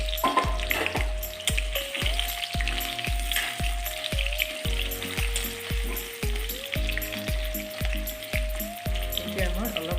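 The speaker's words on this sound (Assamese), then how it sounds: "এতিয়া মই আলু কেইডোখৰ গৰম দিলোঁ" Potato pieces frying in hot oil in a pan for a home-cooked chicken and grape dish, a continuous crackling sizzle close by, running under steady rhythmic background music.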